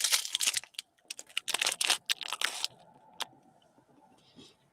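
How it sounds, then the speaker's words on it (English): A cereal bar is munched close to the microphone during a UK storm chase, giving bursts of crunchy, crinkly chewing for a few seconds that fade into quiet background noise with one last crackle. "Apologies for the munching noises."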